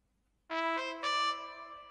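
A second trumpet layer from an Afrobeat beat remake in FL Studio plays alone, a bright brassy sustained tone with a second note entering partway through, close and clean with no talk.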